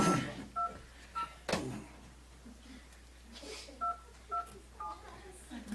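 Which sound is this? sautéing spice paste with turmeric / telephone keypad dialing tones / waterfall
telephone keypad dialing tones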